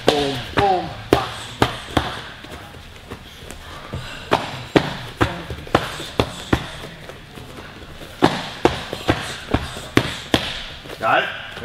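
Crisp, rhythmic smacks of punches landing on focus mitts in repeated cross-hook-cross combinations, arriving in quick groups of three with short pauses between, while a coach talks throughout.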